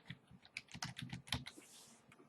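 Quick, uneven clicks of keys being struck on a computer keyboard, close and clear, in a short burst of typing with no voices.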